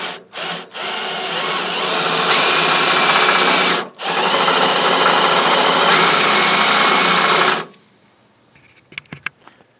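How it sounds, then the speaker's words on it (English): A drill bores out a hole to a larger 7/16-inch size while replacing a tankless boiler coil, grinding loudly and up close in two long bursts after a few short starts, then stopping, followed by faint clicks and handling noises. "now that we got our small hole drilled, we can go right up to the manufacturer's size of 7/16."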